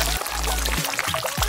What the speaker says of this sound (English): Pour out those yolks.